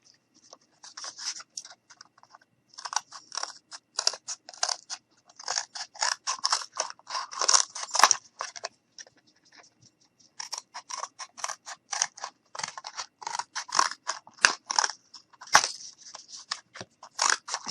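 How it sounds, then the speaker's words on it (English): Scissors cut through cardboard for a snowman top hat ornament, rapid bursts of crisp snipping and crunching close to the microphone, with brief pauses between runs of cuts. "Sometimes I just like to cut away the extra cardboard and just go ahead and cut out like this."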